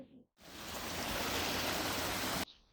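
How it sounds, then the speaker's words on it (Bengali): A double mountain waterfall on a winter Sikkim road roars as a dense, steady rush of water, starting and stopping abruptly. "এই যে ডবল ডবল ঝর্ণা ভাই"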